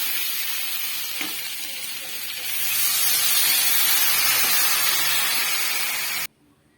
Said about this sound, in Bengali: এটিকে আমি ভালোভাবে নাড়াচাড়া করে কষে নিচ্ছি